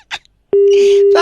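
A steady electronic phone tone, heard after a call is disconnected, sounds loud and continuous after brief speech fragments, with a voice talking over its end.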